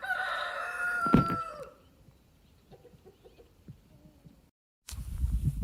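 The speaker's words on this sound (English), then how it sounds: "they are happy little chickens" A rooster crows loudly up close, followed by a quieter stretch with faint clucks and rustling, then a sudden burst of noise, as chickens work through worm castings.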